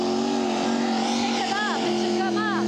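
At an NTPA Grand National tractor pull in Fort Recovery, Ohio, a pulling tractor's engine roars loud and strained, holding a steady, heavy drone. Brief higher whines rise and fall near the end, and voices can be heard under the noise.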